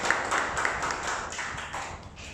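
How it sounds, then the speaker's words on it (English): A trading-seminar audience claps in a burst of dense, overlapping hand claps with a few sharper taps standing out, steady and fairly loud for a couple of seconds. "Give a clap."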